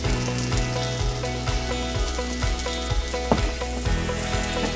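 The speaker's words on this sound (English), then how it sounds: "you want to let these mushrooms saute, but you're going to want them to kind of caramelize" Mushrooms sautéing in oil in a pan make a constant, close frying crackle, largely masked by loud, steady background music throughout.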